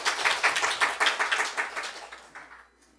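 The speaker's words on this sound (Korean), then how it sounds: "할렐루야, 우리 하나님께 박수." A church congregation claps together, loud and fast, in a rapid steady rhythm of many hands that fades out over about two and a half seconds.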